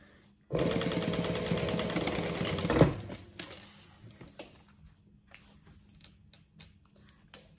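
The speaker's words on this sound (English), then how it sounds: "I'm just gonna top stitch just like we did the other side." A home sewing machine runs a steady topstitching seam for about two seconds, then stops, followed by scattered small clicks and handling taps.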